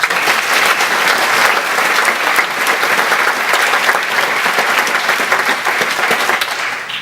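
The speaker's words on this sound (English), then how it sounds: "So please give him a round of applause." An audience in a lecture hall gives a loud, sustained round of applause, with dense clapping that stays even throughout and fades slightly at the very end.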